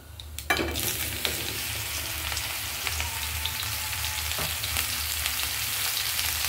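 Water lily stems and black cumin fry in hot oil, giving a steady close sizzle with a sharp burst as the ingredients hit the pan and occasional stirring clinks over a low background hum.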